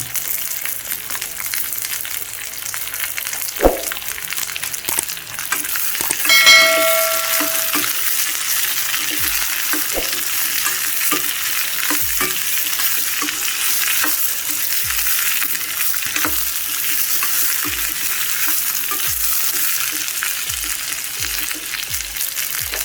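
Ivy gourd (kovakkai) sautés in a pan for a poriyal, a steady close sizzle running throughout, with a sharp knock early on and regular spatula scrapes stirring the pieces every second or two.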